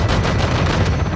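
Heavy gunfire in the Call of Duty Modern Warfare 2 campaign comes as a loud, dense, continuous barrage, booming rapid shots packed close together for a brief moment.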